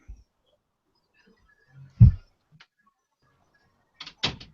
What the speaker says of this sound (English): Close the door to my oven in here.